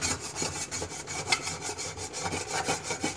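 Steady back-and-forth scrubbing of baked-on grime from metal stove drip pans, a brisk rhythmic rubbing with repeated strokes, close and moderately loud with no talking.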